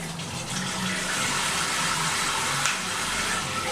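Water gushes steadily from a tap in Cambodia, a constant close splashing rush with no pauses.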